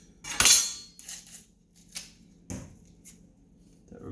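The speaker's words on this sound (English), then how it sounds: "clean the onion first and then cut it into small pieces" Onion being cleaned and cut into small pieces on a board for a steak meal prep, with a few separate sharp knocks and scrapes spread across the moment, one louder cluster near the start and quieter taps after.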